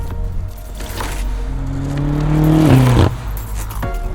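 A 2023 BMW M8 Competition Convertible pulls away, its engine note climbing steadily and loudly before a shift briefly drops the pitch and the car keeps accelerating.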